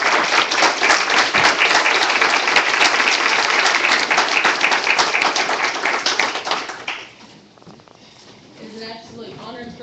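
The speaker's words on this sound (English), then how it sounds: "Give these individuals a round of applause." A city council meeting crowd at city hall bursts into loud, dense applause that holds for several seconds before trailing off, followed by quieter room sound with a voice speaking.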